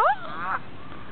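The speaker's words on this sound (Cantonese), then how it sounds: "有咁多鴨嘅？" Two nasal, honking duck quacks up close in a park, a short one followed by a longer drawn-out call, over faint outdoor hiss.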